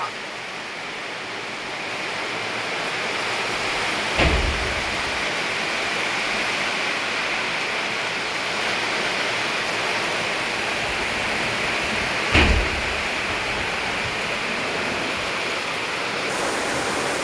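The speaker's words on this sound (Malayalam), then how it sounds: "കാറ്റോടുകൂടിയ വലിയ മഴയാണ്" Steady, dense roar of heavy rain with a windy hiss throughout, broken by two brief low thumps.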